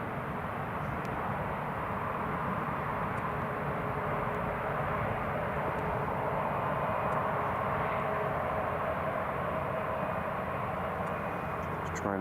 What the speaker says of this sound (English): So Ryanair's just been cleared to taxi to stand number 8.